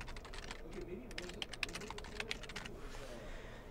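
A username typed on a computer keyboard: a quick patter of light key taps in an irregular run, soft and close, over faint background noise.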